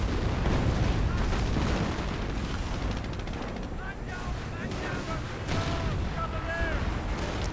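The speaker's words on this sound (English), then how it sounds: "And the artillery exchange seems to just be continuing." Artillery fire and explosions from a real-time strategy video game battle form a dense, continuous rumble of booms and blasts, while a commentator talks over it throughout.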